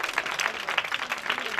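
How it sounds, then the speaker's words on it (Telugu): Congregation at a church parish event applauding, a dense, steady patter of many hands clapping at moderate volume, with voices mixed in. "చప్పట్లు కొట్టండి అందరూ"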